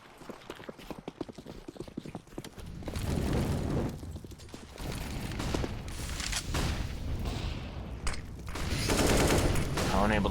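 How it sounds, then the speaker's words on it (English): Bursts of AK rifle fire from a Counter-Strike match on the Ancient map, rapid crackling shots in several clusters mixed with other game noise under a fast-talking commentator. "B DJ dropping 2 with the AK, and this round is all Party Astronauts"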